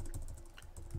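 Fingers type on a computer keyboard, a quick, soft run of close keystroke clicks with no voices.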